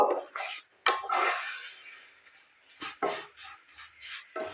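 A utensil scrapes and clinks against a pan while vermicelli (sewai) is stirred as it fries, giving short close scraping strokes in uneven rhythm separated by quieter gaps.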